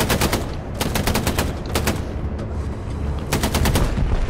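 Automatic gunfire in the World War II shooter game Hell Let Loose: rapid, loud machine-gun bursts crackle in repeated volleys with brief gaps, dense and close throughout.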